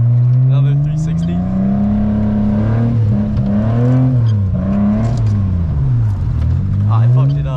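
Car drifting round another 360 spin on a rain-soaked, hurricane-slippery road, starting in second gear; the engine drones loud and close, its pitch wavering up and down as the throttle is worked through the rotation.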